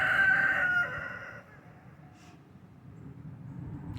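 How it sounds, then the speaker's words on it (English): A rooster on a small farm crows once, loud and near, then the call fades into quiet background farmyard noise. "So that's our roosters."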